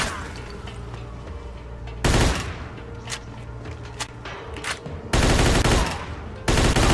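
Gunfire in Mafia II comes as loud, close bursts of rapid shots separated by scattered single cracks and thumps over a steady game background.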